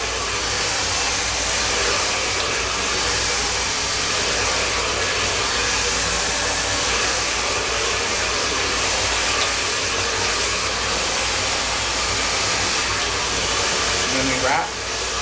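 A blow dryer roars steadily and loudly while hair is styled into a salon blow-out, with a continuous airy hiss that holds for the whole stretch and dips briefly near the end.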